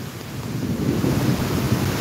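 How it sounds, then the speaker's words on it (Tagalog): Large storm surge waves pound Nato Port in Sagñay, Camarines Sur, Bicol, a continuous heavy roar of surf and wind, loud and steady with low rumbling under a hissing wash. "Magsasalubong po ang baha at ang ganito kalaking mga alon."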